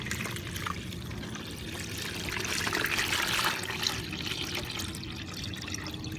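Nutrient solution poured into a Green Stalk vertical planter, a steady trickling stream of water lasting several seconds that swells slightly in the middle, close and fairly quiet, with no talking.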